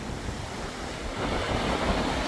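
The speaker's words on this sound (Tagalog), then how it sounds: "So yan po ang ating mga alon." Large ocean waves at sea roll and wash in a continuous broad roar, with wind noise mixed in and a slight swell in loudness partway through.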